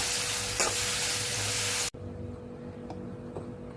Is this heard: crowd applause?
no